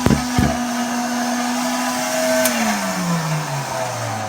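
An old vacuum cleaner with weak suction hums at a steady, loud motor whine after a click, then winds down, its pitch sliding lower as the motor slows.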